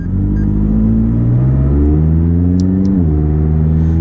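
A McLaren 600LT's engine revs loud and close, a deep rumbling drone whose pitch climbs and settles across several seconds, with no talking over it.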